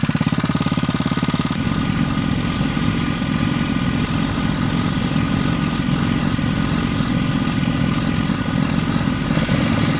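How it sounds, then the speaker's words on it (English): Water pump engine running on a trailer, a steady mid-pitched drone heard close and continuous throughout, with no voices. "So I can't believe the pump stayed running."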